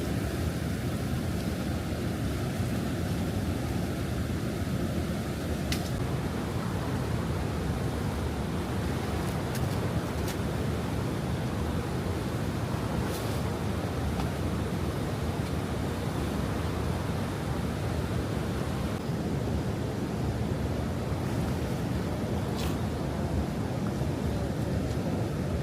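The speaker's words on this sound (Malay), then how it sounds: "Sejuk dengan bunyi sungai macam ni." A river flows steadily beside a resting spot near Lata Kashmir waterfall, a dense, unbroken rushing wash with no pauses and a few faint clicks on top.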